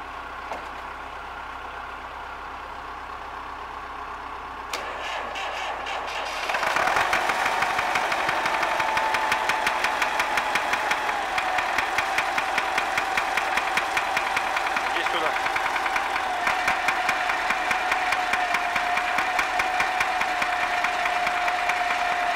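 Engine of a ZIL Bychok tow truck starting up, then revving hard and running steadily loud with a rough, rapid knocking pulse, close by.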